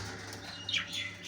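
A budgie flying in a breeding cage gives a short flurry of soft wing flaps and faint chirps, close by, over a low background hum.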